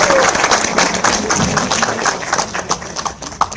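Applause from an audience at a film festival Q&A, welcoming the director and producer after a screening; dense, steady clapping fills the whole stretch at close range, with a few louder individual claps standing out.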